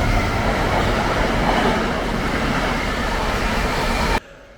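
A train rumbles past close by, a loud steady roar with faint rail clatter that cuts off abruptly near the end.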